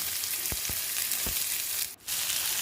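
Chopped peas, onion and green chili frying in hot oil with mustard seeds for a pea thoran, a constant close sizzle with a few sharp pops and a brief dip near the end.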